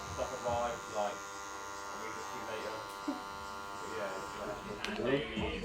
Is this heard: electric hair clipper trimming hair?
yes